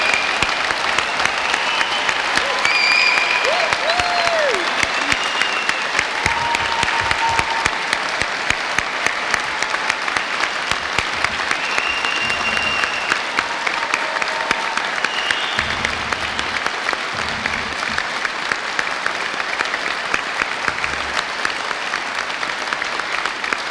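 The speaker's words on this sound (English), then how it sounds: "we would like to give you one last huge round of applause" A large audience gives graduates at a degree ceremony a long, sustained round of applause, dense, even clapping with occasional whistles and cheers that tapers slightly toward the end.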